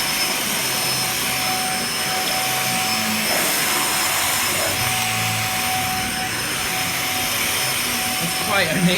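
A Dyson DC50 vacuum cleaner, just repaired, runs on carpet with a loud, steady whirring drone and a thin high whine, continuous and close throughout.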